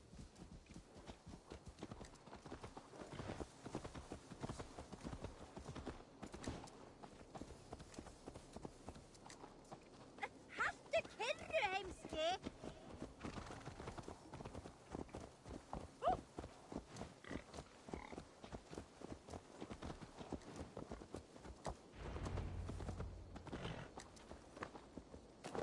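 A horse walks in Assassin's Creed Valhalla, its hooves clip-clopping in a steady, moderately close rhythm over a continuous bed of game ambience and effects, with no talk.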